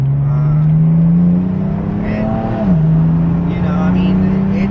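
A BMW M3 fitted with catless downpipes, charge pipes and a J-pipe accelerates hard, its engine drone rising steadily in pitch, dipping at a shift and climbing again, loud and close from inside the cabin with excited voices over it.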